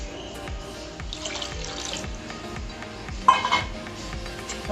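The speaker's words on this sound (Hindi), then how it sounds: "पानी इतना डालेंगे कि थोड़ा ज़्यादा ही पानी डालेंगे।" Water streams steadily into a metal pot nearby for cooking besan kadhi, a continuous splashing rush with a brief clink of cookware partway through.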